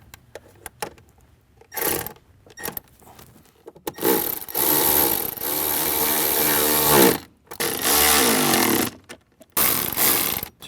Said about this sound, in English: Now we can go ahead and tighten them all down.